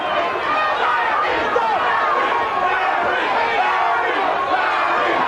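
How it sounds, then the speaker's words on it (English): Boxing crowd chanting during a heavyweight fight, a loud, dense roar of massed voices with rhythmic chant swells, surrounding and sustained, with nearby talk mixed in. "Crowd around us chanting, Larry,"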